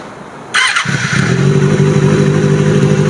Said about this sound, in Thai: เดี๋ยวมาฟังเสียงเครื่องยนต์ระยะไกลกันเลยดีกว่านะครับ